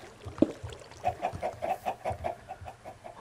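A Minecraft chicken clucks in a steady run of short, evenly spaced calls, fairly close and alone over quiet game background.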